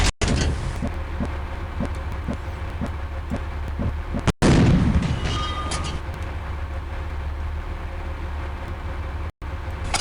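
Tank main gun blasts in the Panzer Elite PC tank simulator, one heavy boom near the middle rolling into a long low rumble, over a steady engine drone with faint rhythmic track clatter.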